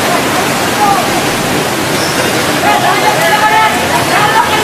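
Floodwater from the 2004 Boxing Day tsunami in Sri Lanka rushes into a hotel, a loud continuous roar of churning water, with voices faintly audible beneath.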